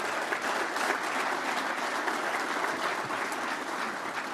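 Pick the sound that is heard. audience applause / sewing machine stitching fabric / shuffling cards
audience applause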